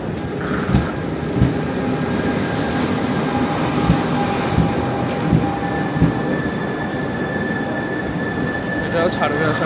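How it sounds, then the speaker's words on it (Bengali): A train rolls into a platform at a large Paris station beside a TGV, a steady rumble with periodic wheel thumps over rail joints and faint thin squeals above, with some background talk. "এই পাশের প্ল্যাটফর্ম নাম্বার 26-এ আরও একটা ট্রেন ঢুকছে"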